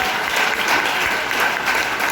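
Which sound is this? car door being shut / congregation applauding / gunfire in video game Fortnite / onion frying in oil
congregation applauding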